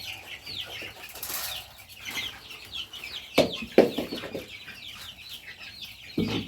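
Young chickens kept in a battery cage cluck and chirp in a busy chorus, with wing flaps and a few sharper squawks standing out near the middle.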